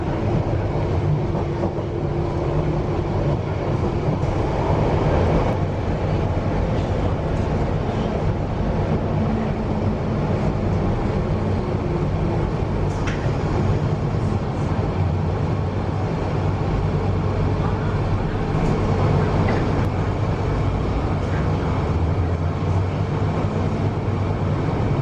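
An old-stock London Underground train running toward Harrow and Wealdstone, heard from inside the carriage as a loud, steady rumble and rattle of wheels on track, with occasional clicks and squeals and no voices.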